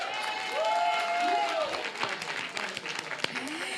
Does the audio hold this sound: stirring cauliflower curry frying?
no